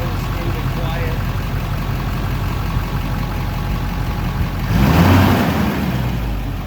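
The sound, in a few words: upgraded HMMWV Humvee engine started and idling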